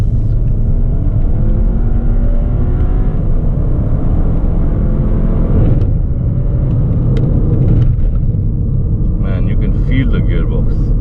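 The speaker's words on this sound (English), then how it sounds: "feel the power of the torque of the engine and the torque in sport mode" A Skoda Octavia RS 245 with a DQ381 DSG gearbox on a TVS Engineering map accelerates hard in sport mode, its engine drone and road rumble loud and continuous from inside the cabin, with a shift-like dip partway through.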